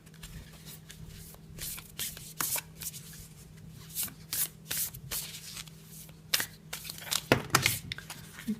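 Tarot cards being shuffled by hand in a quiet room, soft rapid riffling and sliding in uneven bursts that grow busier toward the end.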